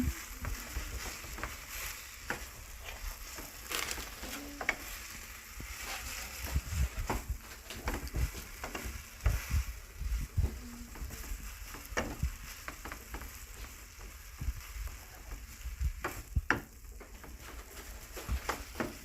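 Glass noodles with egg stir-fried in a pan, a steady close sizzle broken by repeated scraping and clacking of the spatula throughout, no voices.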